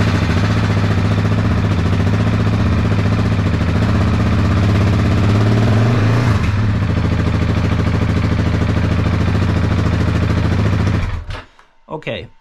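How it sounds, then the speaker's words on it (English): A motorcycle engine with a Wings aftermarket exhaust idles loudly and steadily with a deep, throaty burble, briefly rising in pitch midway, then cutting off abruptly near the end. "it was hard to talk while running this wings exhaust"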